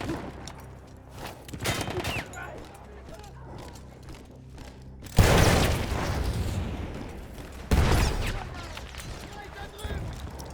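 Explosions and gunfire in the Battlefield 1 campaign, a loud sudden blast midway that rumbles and decays, followed by a second heavy boom, with scattered shots and a voice speaking over the action.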